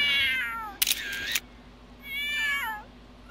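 Newborn kittens in The Sims 3 Pets give two short, high, thin meows a moment apart, with a brief burst of a camera shutter between them, fairly close against a quiet game background.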